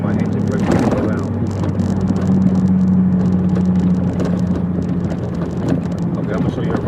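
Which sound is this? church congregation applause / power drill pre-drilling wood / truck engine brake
truck engine brake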